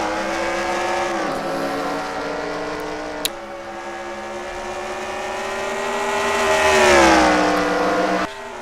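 NASCAR Legends race cars lap Bristol in a racing video game, a loud, steady multi-engine drone whose pitch rises and falls with the cars, heard alone with no talk.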